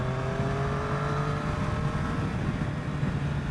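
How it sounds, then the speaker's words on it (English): A 2021 Triumph Street Triple RS accelerating hard in fourth gear, a loud continuous engine note climbing steadily in pitch, heard close with rushing wind and no voices. "that's just fourth gear jamming on the throttle"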